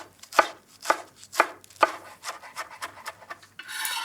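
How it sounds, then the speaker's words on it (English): A knife chopping dill on a board, several sharp regular chops followed by quicker, softer cuts and a brief scraping sweep. "Scrunch it all together and roughly chop it."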